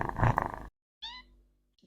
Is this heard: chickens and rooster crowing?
no